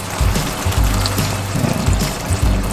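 Water pours steadily into a pot of beef steak, a continuous splashing rush with low gurgling pulses, close and fairly loud, no voices.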